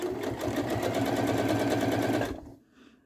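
A sewing machine runs a steady, fast zigzag stitch over fabric to gather it into ruffles, its even mechanical chatter continuing for about two seconds before stopping abruptly into near quiet.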